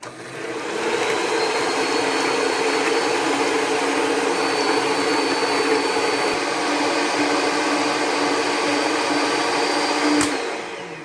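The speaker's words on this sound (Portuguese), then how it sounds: "E agora nós vamos bater até que ele vire um chantilly, que você levante ele assim e não caia" An electric mixer whips cream into chantilly for a layered cake with Ninho powdered milk and strawberries, a steady loud whirring drone running unbroken for about ten seconds before a brief clack near the end.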